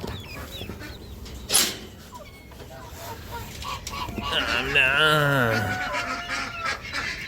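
A rooster kept among poultry gives a loud, drawn-out honking call near the end, preceded by scattered clucks and crowing bursts over a noisy outdoor background, with someone speaking briefly.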